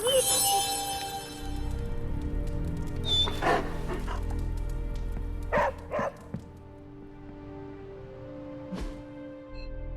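A dog in Marvel's Midnight Suns barks and yips a few times close up, with short bursts spread over a few seconds, and some game speech and sounds mixed in.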